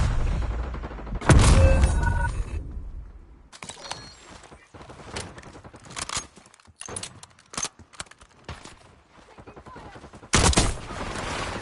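Gunfire in the battle royale game Warzone Resurgence on Rebirth Island, with loud bursts of shots at the start and near the end and scattered clattering shots between, close and harsh.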